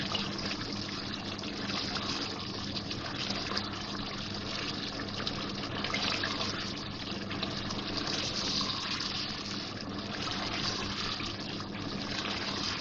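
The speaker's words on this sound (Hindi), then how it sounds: "हाफ कप मैंने पानी डाला है इसमें।" Half a cup of water pours steadily into a pan of egg korma, a continuous close gushing and splashing that runs unbroken without any voices.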